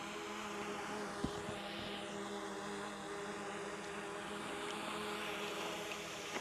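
Faint, steady propeller whine of a DJI Mini 4 Pro drone hovering about an inch above the ground, a continuous hum with a soft background hiss and a couple of small clicks.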